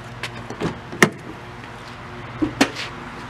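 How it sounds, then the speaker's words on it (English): A car door is opened during a flat tire change, with a couple of sharp clicks and latch knocks spaced apart against a quiet background. "So we open the door again."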